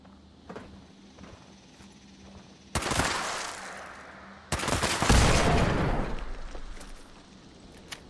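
A player fires on an enemy in Fallout 76: two loud, harsh bursts of gunfire, one short and one longer, each a dense crackling volley, stand out against a quiet background.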